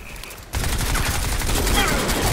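Gunfire from a shotgun in the video game Crysis: a sudden loud burst of shots that keeps sounding as a dense, rough rattle with faint voices beneath.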